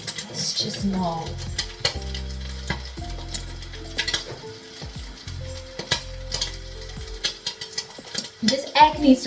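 An egg frying in a pan gives a busy crackling sizzle, with spattering pops, clinks and stirring scrapes close by throughout.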